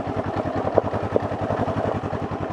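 A Honda CL500 motorcycle's 500cc engine chugs at low revs in second gear with an even, throbbing pulse, steady and fairly close throughout.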